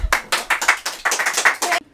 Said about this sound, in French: On applaudit l'artiste.